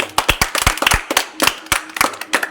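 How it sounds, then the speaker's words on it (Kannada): Schoolchildren clap for their teachers in a classroom, a burst of sharp, uneven hand claps from a small group lasting a couple of seconds, close and fairly loud with no talk. "ಎಲ್ಲರೂ ನಿಮ್ಮ ಗುರುಗಳಿಗೆ ಚಪ್ಪಾಳೆ ತಟ್ಟಿ"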